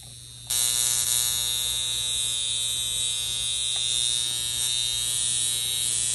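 A high-frequency facial device switches on with a sudden, steady electric buzz that holds at an even level, loud and close, with a bright whine over a low hum.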